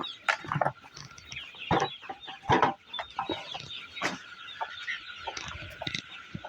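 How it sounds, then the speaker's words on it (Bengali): Broiler chickens on a poultry farm cluck and squawk in irregular bursts, some near and loud, others softer in the flock behind, over a faint background hum. "আমাদের মুরগি খুঁজে খুঁজে ধরা লাগবে"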